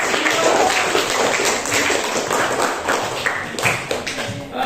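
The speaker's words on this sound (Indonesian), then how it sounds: "beri tepuk tangan untuk kelompok" Classroom applause for a group after a poetry reading, a busy crowd of claps with scattered sharper taps, loud and sustained across the whole stretch.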